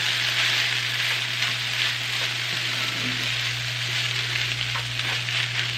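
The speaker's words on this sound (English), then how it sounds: "we're going to saute these, give them a good start" Hash browns sauté in a pan, giving off a steady, close hiss of frying with faint crackles and no breaks, under a constant low hum.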